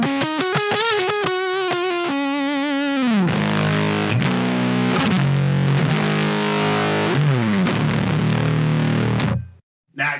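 Fuzz-driven Stratocaster on the middle-and-neck pickup setting with volume fully up, loud saturated chords and sustained notes ringing thick and buzzy, a few high octave-tinged lines, ending abruptly.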